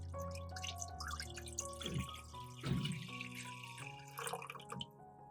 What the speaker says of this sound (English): Pour the mixed water into the pot.